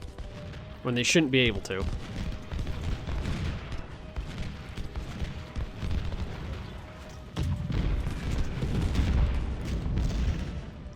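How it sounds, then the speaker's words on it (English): Infantry regiments and skirmishers fire volleys in Ultimate General: Civil War, at the First Battle of Winchester. The gunfire makes a steady, dense crackle and rumble through the clip, with a voice speaking briefly near the start. "there's 2 regiments of infantry, and then the skirmishers right there, and they're all firing"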